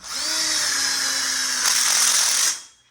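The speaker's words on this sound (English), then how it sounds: "We're using an impact drill because it pushes as you're screwing" An impact drill driving screws into a metal frame whirs continuously up close for a couple of seconds, rising briefly in pitch and strain before spinning down and stopping.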